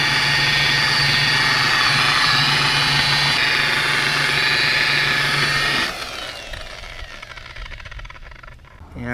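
A handheld buffer polishes car paint with a loud, steady motorized whine and hum that runs for about six seconds before dropping off sharply, leaving a quieter, fading tail.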